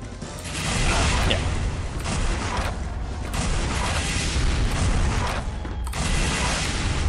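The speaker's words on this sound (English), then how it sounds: "If I just keep firing rockets" Rockets fire repeatedly from a rocket launcher in the game SiN, giving loud whooshing bursts at intervals over constant mechanical game noise.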